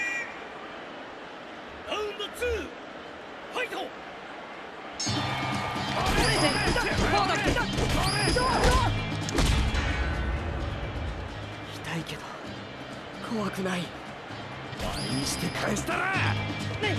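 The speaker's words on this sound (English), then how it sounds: "Almost had two simultaneous rabbit punches." Punches land in a Hajime no Ippo boxing video game bout, a run of sharp thwacks and smacks over game music and crowd noise, with commentary talk in places.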